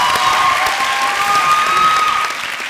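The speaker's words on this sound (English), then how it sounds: "Round of applause for Miss Trudy." A graduation audience bursts into steady applause for a staff member, a loud wash of clapping with a thread of voices or cheers above it, easing slightly at the end.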